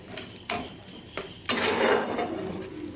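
Pav bhaji masala being mixed in a pan, with a few sharp metallic spoon clinks against the pan followed by a soft sizzling scrape, fairly quiet and close.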